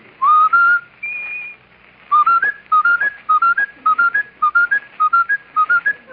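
A man whistles a short melodic phrase over and over in quick bursts, mimicking a stuck broken record, clear and close with a thin radio-show tone.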